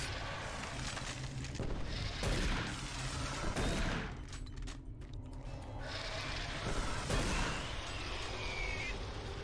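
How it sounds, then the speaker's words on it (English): Grenade explosion and heavy gunfire in the video game Doom 3 BFG, a loud continuous barrage with a big blast and crackling debris, close and dense throughout. "Nice well-placed grenade."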